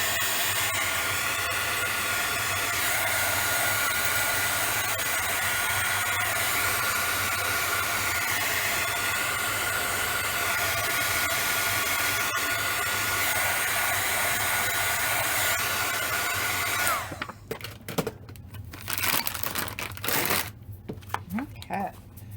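A handheld heat tool blows a steady, loud rushing hiss over freshly stamped ink on a card for about seventeen seconds, then cuts off and leaves softer handling sounds and paper shuffling.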